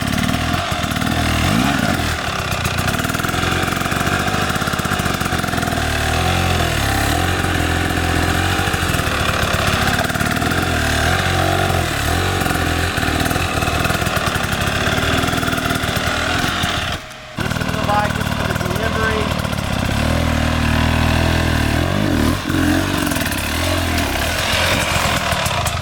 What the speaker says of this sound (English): Listen to the bike.